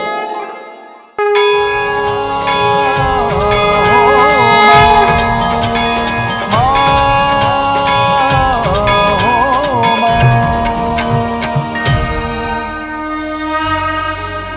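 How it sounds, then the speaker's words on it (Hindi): A large temple bell rung after the evening aarti, a loud metallic strike that booms and rings out with long sustained overtones, re-struck several times and swelling as it decays over about thirteen seconds. "आपके इस घंटे की ध्वनि से संपूर्ण वातावरण में एक अलग सी ऊर्जा उत्पन्न हो गई है।"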